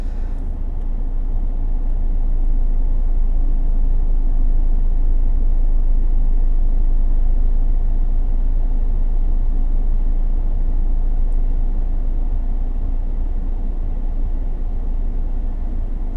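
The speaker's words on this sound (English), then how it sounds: "And now it did something with the climate control. It turned that on when going through the different modules. I guess you can hear that." A Saab car's climate control fan runs inside the cabin, a steady low rumble and airflow hum at constant level with no talking.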